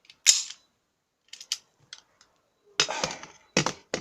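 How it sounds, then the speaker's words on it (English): Several sharp blank-firing pistol shots with short gaps between them, the last few louder and more ragged, loud and close in an otherwise quiet room. "Another blank firer."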